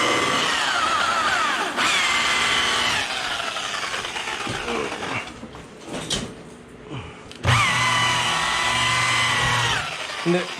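A polisher cutting and buffing orange peel texture out of car paint gives a steady, loud whirring drone with a few brief dips and pauses before spinning back up, and faint talk beneath it.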